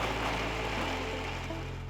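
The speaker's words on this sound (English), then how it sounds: "Now grind all these without adding any water." A kitchen mixer grinder running dry on spices, garlic, red chilli powder and tamarind, a loud continuous whirring drone with a steady motor hum whose pitch drops slightly partway through, with no voices.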